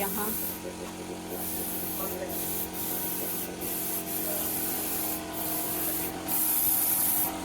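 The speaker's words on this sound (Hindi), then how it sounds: "यहाँ स्प्रे हो रहा है, स्प्रे पेंट से कर रहे हैं।" Spray paint hisses in short repeated bursts over a busy background, with voices and other tonal sounds running underneath the whole time.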